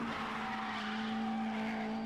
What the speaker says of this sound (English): Oh, here go that car again.